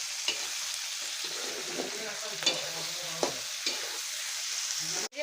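Meat frying in oil with onion and green chilli: a soft, steady sizzle up close, broken by a few light stirring scrapes and a sharp clunk near the end, with no talk.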